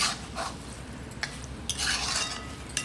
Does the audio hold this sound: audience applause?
no